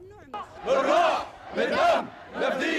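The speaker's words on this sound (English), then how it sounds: "crowds chanted as they took Mazen's body along the streets of Damascus" A crowd chants in rhythmic swells through the streets of Damascus while carrying a body in procession, three loud surging calls repeated in a steady cadence.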